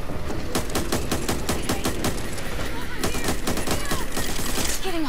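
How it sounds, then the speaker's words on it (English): Rapid bursts of automatic gunfire crackle in the zombie shooter video game Back 4 Blood, with dense repeated shots over several seconds and an occasional faint voice. "He's shooting at me."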